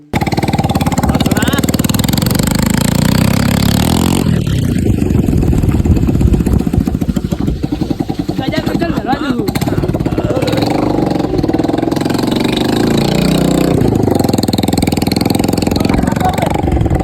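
A motorcycle engine runs loudly up close, a continuous throbbing drone that dips and rises slightly as the bike rides slowly into a village.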